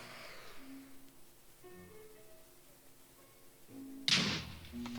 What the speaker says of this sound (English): Right before it spawns, push it into the thing. Now stand back. The explosion still will happen.